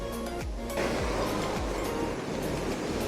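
Waves break and wash onto a beach during shore fishing, a steady loud roar of surf with a few heavier surges, close by and continuous, with wind rumbling over the microphone.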